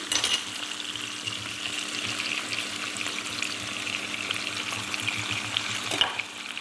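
Ackee and salt mackerel saute in a pan with a steady, close frying sizzle that holds evenly throughout, with a faint stir or clink near the end.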